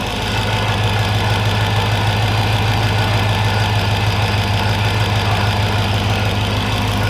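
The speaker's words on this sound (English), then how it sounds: "You got an exhaust leak still." Dodge Hellcat V8 idling steadily up close with a rhythmic ticking from an exhaust leak, loud and continuous with no voices.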